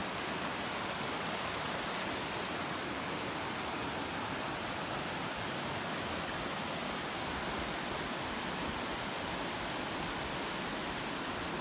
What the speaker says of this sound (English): And this beautiful stream.